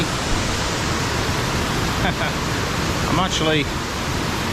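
Waterfall at Cwmorthin, near a slate quarry, gives a constant, loud hiss of falling water close by, with a voice briefly speaking over it.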